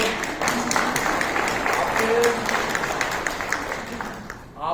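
Audience applause at a talk, a brief burst of clapping from a seated crowd that swells and then tapers off over a few seconds, with some voices mixed in.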